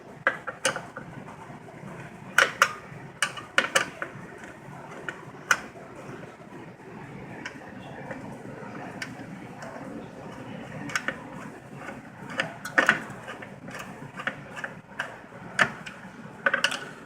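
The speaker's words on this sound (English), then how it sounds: "is get these screws out. No, not really out, just loosening them." Screws on the hold-down of a CPU heat sink being loosened on an old Intel X58 board, giving a run of close, sharp metallic clicks and ratchety ticks at irregular intervals over a steady low background.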